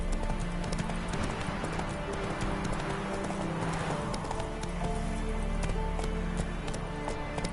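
Roach the horse galloping in The Witcher III, rapid rhythmic clip-clopping hooves over a constant rumble of movement, loud and steady for the whole stretch.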